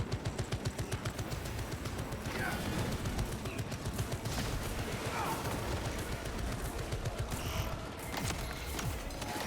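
Automated turret in a Warhammer 40K video game firing continuously, a dense rattling burst layered under a busy game soundscape with other clatter and effects, steady and loud throughout.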